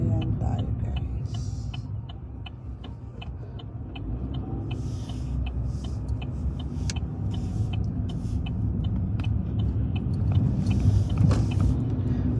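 A car driving slowly along a nearly empty road, with a steady low engine and road rumble throughout and faint regular ticking above it.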